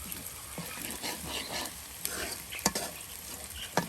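Chopped onions fry in hot oil in a home kitchen, giving a steady soft sizzle with occasional sharper stirring scrapes and pops, fairly quiet and close, with no talking.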